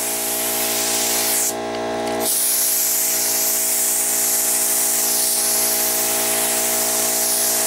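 A spray paint can hisses in one continuous loud burst while applying a second coat to a rat rod car, briefly cut off near the start before resuming steadily over a low mechanical hum.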